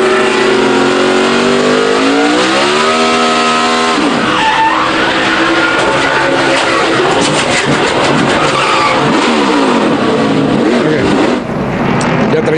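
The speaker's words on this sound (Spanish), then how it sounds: "las revoluciones, el motor como tal, el motor trató de salvarlo" A NASCAR stock car running at Richmond with a low right-side tire revs its engine in a loud, continuous roar that rises and falls, with tire skidding, as race commentators talk over it.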